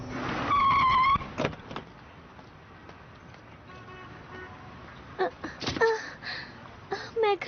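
A cartoon car makes a brief tyre screech and horn-like toot before the stop, loud at the start, then a stretch of quieter background with some scattered sound effects and voices near the end.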